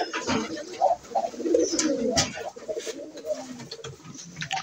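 Pigeons coo inside a coop, a close, continuous layer of throaty rolling coos overlapping one another with a few sharper knocks.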